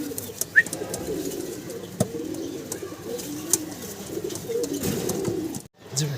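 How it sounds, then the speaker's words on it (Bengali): Local Bengali crossbreed pigeons cooing in a continuous low murmur, a flock at moderate distance with steady background noise throughout. "এটা আমাদের দেশি কবুতর ভাই"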